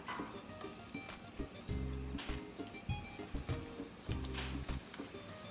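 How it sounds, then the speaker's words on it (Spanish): Tortillas frying in plenty of oil for chilaquiles en salsa roja, a steady close crackle and sizzle with bursts of spattering and intermittent low scraping or stirring thumps. "Las tortillas necesitamos suficiente aceite. Como puedes ver, ya estamos listos para agregarle todas las tortillas."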